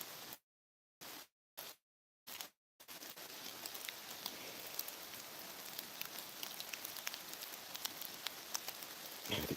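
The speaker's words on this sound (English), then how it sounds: "if it would quit raining" Steady rain falls outdoors during a solo turkey hunting trip in Honobia, a dense continuous hiss with scattered drop impacts lasting most of the clip after a few short bursts of rain noise cut by silence at the start.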